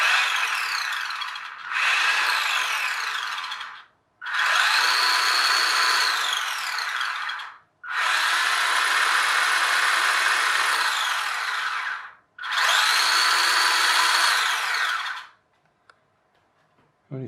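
A small electric motor in a Revell model VW Beetle whirs in four bursts of several seconds each, a high, buzzy drone broken by short silences, running close and without talk.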